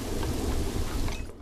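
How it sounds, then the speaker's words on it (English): Heavy rain with rumbling thunder from the Planet Zoo video game weather, a dense continuous downpour wash with low rolling rumble, loud and steady, fading slightly at the very end. "Start raining again. Before it was pouring rain too."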